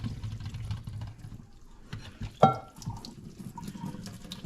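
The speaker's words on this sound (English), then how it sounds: "So after about 2 minutes, I'll just drain this off." Water drained from a pot pours and splashes briefly, with a sharp gush midway, against quiet kitchen background noise.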